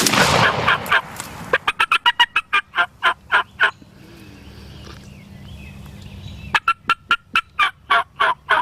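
Wild turkeys in Ohio gobble outdoors, with a loud burst of rapid gobbles first, then a quick series of short rhythmic gobbling notes, a quieter pause, and another run of repeated gobbles close by.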